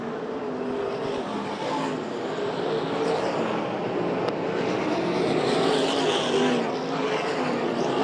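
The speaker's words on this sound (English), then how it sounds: "Nearly 3 wide off turn 4 between Stanbro, Charles Davis Jr. and Tracy Hines" USAC/CRA sprint cars racing at Phoenix, a loud continuous roar of several engines rising and falling as the cars run close together off a turn, with no voices heard.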